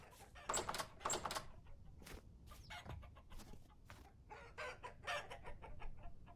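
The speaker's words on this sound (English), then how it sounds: "Let's look at the chickens." Chickens in a video game cluck and squawk in quick bursts, close and fairly loud, with short pauses between calls and no talking.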